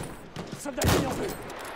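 Gunfire from a Battlefield 1 match, with a burst of shots peaking mid-clip amid a dense battle din, loud and close, under faint background voices.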